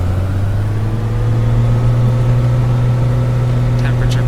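In a flight simulator, a Cessna 182 engine holds a loud, steady, deep drone as power is advanced, with a faint chirp near the end.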